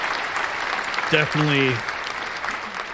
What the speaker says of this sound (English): cause for applause.